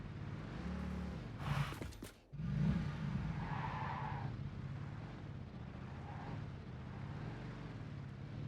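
A vehicle in the video game Satisfactory skids under the handbrake: a steady engine drone, a sharp screeching skid lasting about a second, then a brief dip and a rumbling return of the motor.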